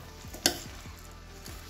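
Biryani masala and rice for vegetable biryani stirred in a kadai: a sharp metallic clank, then repeated scraping strokes of the spoon over a low, steady sizzle, close and without talk.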